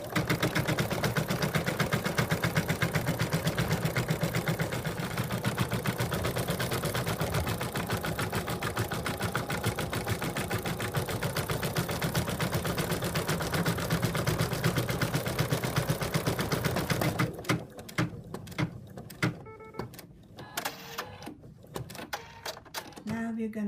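An embroidery machine stitches out an applique outline on an in-the-hoop purse, a fast, steady mechanical chatter that runs continuously and then breaks into short, stop-start bursts near the end.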